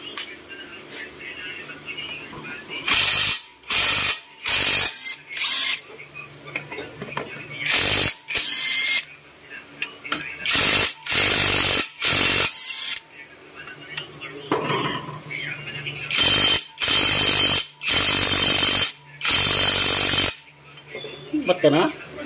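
Hand tools clank and ratchet while a motorcycle's swing arm and crankcase bolts are removed, with repeated bursts of metallic clatter separated by short pauses and a few spoken words nearby.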